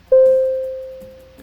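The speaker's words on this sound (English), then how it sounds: "The signal alert system sounds like this." A single electronic alert tone from the Tube Sim train video game, warning of a red stop signal ahead: one clean, steady beep that starts sharply and fades slowly over about a second, heard alone.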